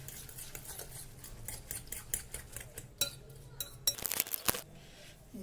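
Eggs and salt being mixed in a bowl for an omelette, a quick run of scraping stir strokes with small clinks of utensil against the bowl, growing louder and sharper toward the end.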